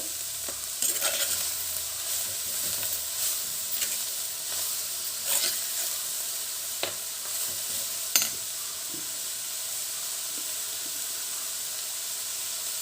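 Spinach and coconut being stirred in a frying pan, a constant soft sizzle broken by scattered sharp scraping and clicking strokes of the spoon against the pan.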